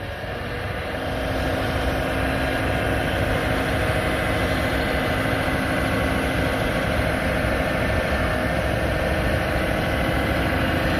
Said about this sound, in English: a beautiful John Deere 700K dozer that we just added to our fleet.